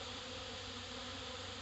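Honey bees robbing a hive make a steady, continuous buzzing drone, close and moderately quiet, with no voices.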